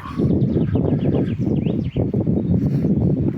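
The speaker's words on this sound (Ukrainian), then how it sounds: "Пташки співають." Small birds sing and chirp in a spring pine forest, with several high calls over a loud rustling, windy foreground of footsteps and movement close to the microphone.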